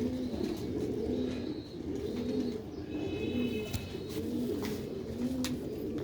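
Sialkoti breed pigeons coo in a steady repeating rhythm, several soft rolling calls close by with faint birdsong behind and no voices.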